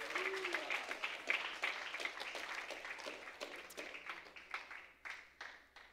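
Faint applause from a church congregation during a sermon, a soft, steady patter of many hands at a distance with a few sharper claps standing out.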